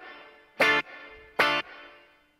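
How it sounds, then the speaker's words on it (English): Two short, loud electric guitar chords through a Boss GT-100 multi-effects processor are struck about a second apart, each followed by a brief pre-delay gap and then a washing reverb tail. "And you can hear there's a pre-delay on the reverb,"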